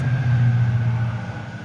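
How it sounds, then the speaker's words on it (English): A train passes close by on nearby tracks, a loud steady low rumble with a sustained hum that eases slightly toward the end. "Excuse the train passing by."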